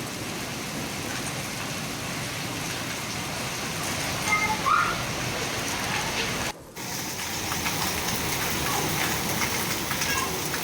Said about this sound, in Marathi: अहिल्यानगरमध्ये मुसळधार पाऊस कोसळला आहे।